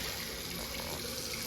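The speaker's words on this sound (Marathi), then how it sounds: "ए नल बंद कर, पाणी वेच जाते." Water runs steadily from a tap, a continuous close hiss and splash with no pauses.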